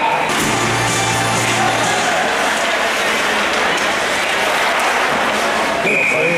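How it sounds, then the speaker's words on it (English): Crowd at an ice hockey game cheering and clapping, a dense, sustained wash of applause and shouts at steady loudness, with a whistle-like tone near the start and a short high tone near the end. "Nice crowd."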